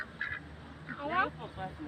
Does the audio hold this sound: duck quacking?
yes